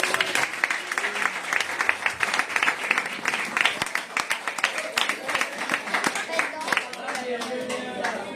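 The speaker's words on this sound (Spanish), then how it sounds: "Quiero otro aplauso a Jesús." A church congregation applauds in a long, lively round of dense clapping that holds steady for several seconds, with scattered voices cheering within it.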